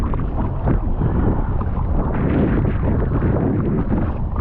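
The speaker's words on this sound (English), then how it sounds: "paddling back" Steady broadband wind and water rush while paddling a small boat into the breeze on open water, a continuous blustery roar with faint irregular splashes and no voices.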